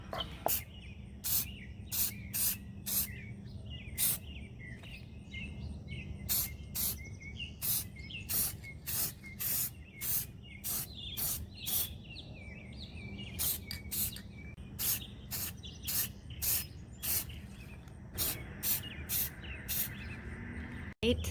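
Repeated short bursts of spray paint from an aerosol can coat a Dollar Tree watermelon lantern, hissing in steady clusters of quick pulses over a low background hum, with no talking.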